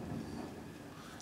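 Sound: distant rumble of thunder

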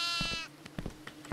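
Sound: sheep bleating in video game Devour

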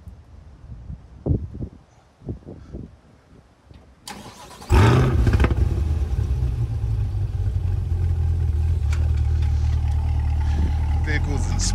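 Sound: C8 Corvette engine cold start

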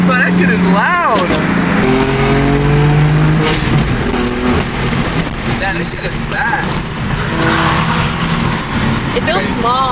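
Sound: loud BMW M3 car engine

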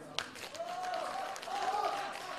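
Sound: audience applause for the band

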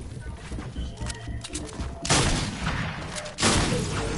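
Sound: gunfire in the video game Fortnite

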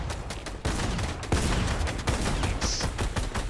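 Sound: gunfire in Fortnite video game

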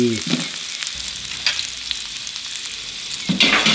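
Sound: stir-frying garlic, ginger, lemongrass and coriander root

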